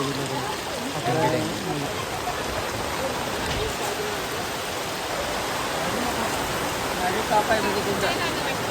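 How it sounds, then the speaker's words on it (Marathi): Heavy rain pours down steadily on a rural Maharashtra market day, a dense continuous hiss filling the scene, with occasional voices faintly heard beneath it. "पाऊस चालू झाला की"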